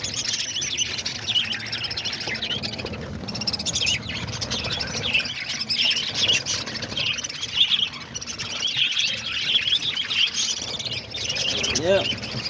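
Dense, steady chatter of caged parakeets and lovebirds fills the space, high busy chirps and tweets overlapping throughout, fairly close and loud, with a person talking beneath the birds at times.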